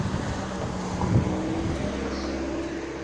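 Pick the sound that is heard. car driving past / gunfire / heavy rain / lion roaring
car driving past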